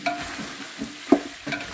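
Fried lamb with garlic and onions being stirred in a pan, soft scraping strokes over a low sizzle with one sharper knock of the utensil midway, close and moderately quiet.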